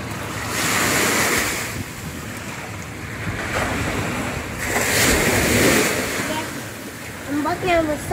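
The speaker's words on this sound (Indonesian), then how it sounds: "Ombaknya besar deh." Big ocean waves surge and break at Tanjung Bira beach at high tide in the early morning, a steady roar of surf with gusty wind noise across the microphone, swelling louder midway.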